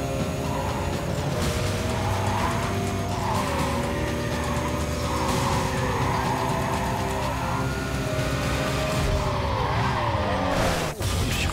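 A car skids and slides downhill on a canyon road in the racing game Need for Speed Carbon, with long, wavering tire squeals over a loud, steady engine roar that dips near the end.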